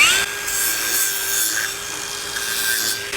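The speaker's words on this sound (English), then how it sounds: "I'm just going to work that out with this sanding disc." A sanding disc grinds across the rough casting texture of a 1938 Cadillac part, a continuous abrasive rasp with a steady high whine from the tool, heard up close without a break.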